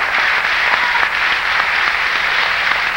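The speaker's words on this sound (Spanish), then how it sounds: "Un fuerte aplauso para Boris Ackerman, el extranjero que llegó al Perú" Studio audience applauding loudly on a live Peruvian TV show broadcast on Canal 7, a dense, steady wash of clapping that fills the whole moment without letup.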